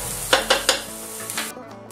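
Red onions frying in a pan, stirred in a few quick scrapes that set off bursts of sizzle over a steady low hiss, close and moderately loud, with no voices.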